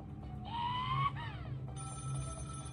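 A telephone rings inside a mobile survival challenge game, with synthetic electronic tones rising and shifting over several bursts above steady background game music.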